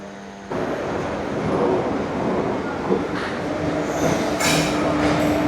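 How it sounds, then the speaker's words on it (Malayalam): A train rolls in with a steady loud rumble of wheels and carriages, a brief screech rising near the end. "അതാ നമുക്കുള്ള വണ്ടി കയറി വരുന്നു."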